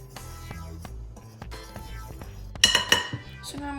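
A utensil gently stirs baking powder, cinnamon and salt in a bowl, making a series of soft scrapes and light clinks against the bowl. The clinks get sharper near the end.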